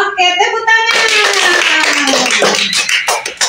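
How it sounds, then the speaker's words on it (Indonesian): A classroom of students bursts into loud, close, rhythmic hand clapping right after a short moment of young voices, and the applause keeps going steadily. "Oke, tepuk tangan."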